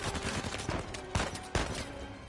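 Rapid automatic fire from a chain gun in Uncharted 4, a dense continuous stream of shots with a couple of heavier bursts standing out, loud and close throughout.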